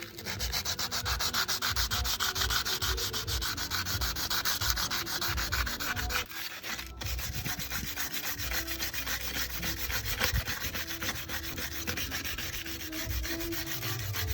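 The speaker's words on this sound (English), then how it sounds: "about an hour worth of sanding this down" A car wheel barrel is sanded by hand in steady, fast back-and-forth rasping strokes. The scratchy friction runs continuously and close, with one brief pause partway through and no voices.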